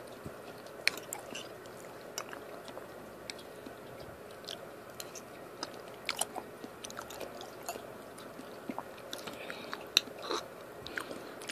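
Someone eats baked pork chops with corn, green beans, celery, potato and onions up close. Soft wet chewing, squishy bites and small crunches recur irregularly over a quiet background, with no speech.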